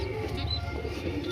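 Young fancy pigeons coo softly in a loft after being separated from their parents, low murmuring coos running steadily through the whole short stretch with faint chirps above.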